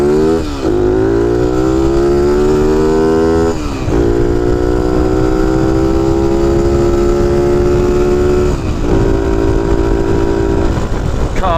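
A Honda C90 motorcycle engine ridden offroad, its carburettor needing adjustment, drones loud and close with rising and falling revs as the rider shifts and accelerates, continuous throughout with no talking.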